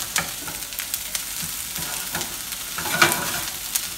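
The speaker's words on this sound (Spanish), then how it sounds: "Vamos a guisar un poquito el ajito." Garlic sizzles and fries in a pan for a drunken salsa (salsa borracha), a steady close crackle broken by a few sharper pops and stirring scrapes, with no talking.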